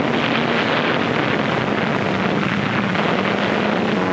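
Engines of Japanese warplanes at Okinawa in a WWII kamikaze newsreel produce a continuous, loud, close roar that holds steady with no break.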